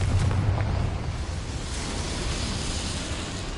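A Confringo blasting spell explodes in Hogwarts Legacy, a loud burst with a deep low rumble up front that settles into a sustained, noisy roar trailing off over a few seconds, with no voices.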